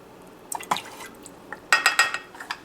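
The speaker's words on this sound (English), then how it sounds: "Just using a little tap water here." Tap water is poured into a quarter-cup measure in a home kitchen, heard as close, scattered splashes and drips in short bursts with a faint clink of the cup.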